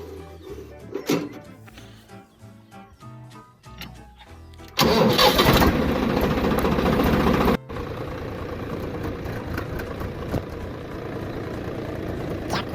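A tractor engine cranks and catches, roaring loudly for a few seconds before settling into a steady, rumbling idle close by.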